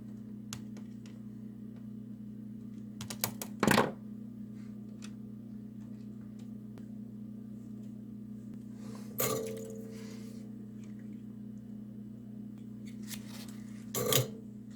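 A wire cut loose during an install. Three sharp, isolated snips are spaced several seconds apart over a steady low mechanical hum.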